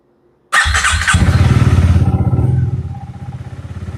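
A 2026 Honda Rebel 300 e-clutch motorcycle starts up with a loud burst, then settles into a steady, close, throbbing idle with a rhythmic low pulse that softens slightly near the end.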